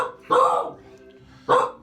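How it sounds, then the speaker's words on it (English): Two sharp dog barks, spaced about a second apart, close by with quiet between them. "What are you barking at"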